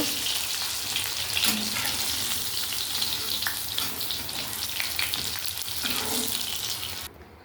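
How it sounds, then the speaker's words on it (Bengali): Chicken pieces deep frying in hot oil give a loud, steady hiss and crackle that fills the space without pause, then cut off abruptly near the end. "এই যে বন্ধুরা সব ছেঁকে তুলে নিয়েছি ভেজে"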